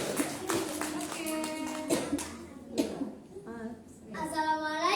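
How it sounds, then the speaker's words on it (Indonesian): Children clap in applause for a guest presenter, a scattered run of light claps mixed with kids' excited voices and chatter. "kasih aplaus dulu buat Kak Bian"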